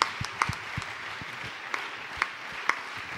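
Congregation applauding at a church service, a soft, distant wash of clapping with a few sharper claps standing out nearby.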